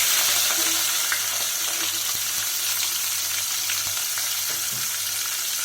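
Chopped onions frying in oil with mustard seeds in a pan for a capsicum egg stir-fry, a steady close sizzle with a low hum beneath and occasional light stirring clicks, no talking.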